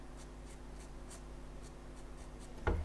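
Pencil sketching on paper for a home or studio drawing, a soft steady scratching of graphite with faint repeated strokes, close and quiet, ending in a brief louder thump.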